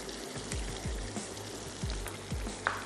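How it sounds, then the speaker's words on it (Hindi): Meat and potatoes frying with tomatoes in a pan, a soft steady sizzle with a few low scraping stirs, fairly faint and close, no voices. "और अब इसको हमने थोड़ा सा अच्छे से भून लेना है।"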